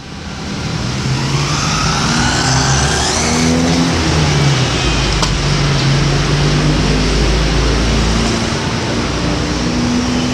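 A Wltoys A959B RC car accelerates at full throttle with a loud, continuous high-pitched electric motor whine that holds at top speed, close and sustained, with no speech.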